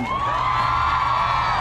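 An audience at a hosted event cheering and whooping together, a loud sustained crowd roar held steady for the whole moment.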